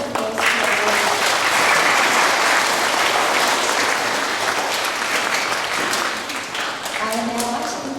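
Loud, sustained applause from the audience at a K-12 school presentation day assembly, a dense roar of clapping that eases a little toward the end, with faint voices underneath.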